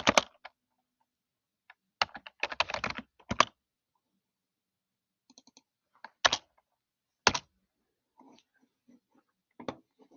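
Computer keyboard typing in short, scattered bursts of crisp key clicks separated by quiet pauses, fairly close and moderately loud, with no talking.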